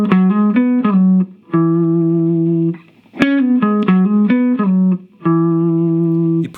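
Electric guitar playing a lick from a song's solo, with clean, sustained single notes in short phrases and brief pauses, heard twice in a row, loud and alone.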